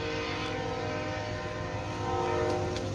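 A train passes close by, sounding a long, steady horn over the rolling rumble of the railcars; the blast holds for several seconds and swells slightly toward the end.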